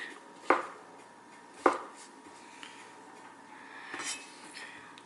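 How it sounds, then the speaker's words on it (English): A knife chops portobello mushrooms on a cutting board with two sharp, close strikes about a second apart, followed by softer scraping and handling sounds in a quiet kitchen. "We're gonna start mincing it or chopping it up"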